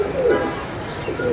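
Pigeons coo softly in two rolling, throaty phrases at moderate distance over a faint background hiss; no voices.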